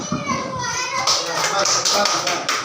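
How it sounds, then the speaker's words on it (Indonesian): Schoolchildren in an elementary classroom clap together in a short burst of hand claps, mixed with their chatter and voices, fairly close and lively. "Oke, baik, tepuk tangan ya."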